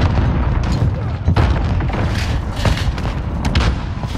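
Grenade blasts and game-fire in Call of Duty Modern Warfare multiplayer: a dense, loud wash of low booms and thuds with a sharp hit near the middle, continuing as a steady rumbling barrage.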